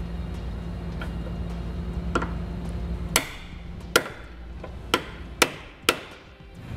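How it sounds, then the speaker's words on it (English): Sharp metallic hammer blows strike a chisel knocking a weld nut off a Subaru Forester, about six distinct knocks spaced roughly a second apart, ringing over a low background hum. "we're going to need to grab a chisel and a hammer and knock it off"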